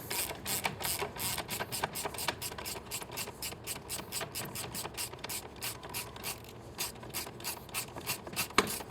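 A ratchet with an 8 mm Allen bit tightens an exhaust header bolt on a Triumph Street Twin-family motorcycle, producing steady rapid clicking bursts up close, in repeated strokes with no talk.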